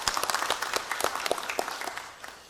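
A church congregation applauds steadily during a Sunday service, a dense patter of many hands clapping together at moderate volume in a reverberant room, fading slightly toward the end.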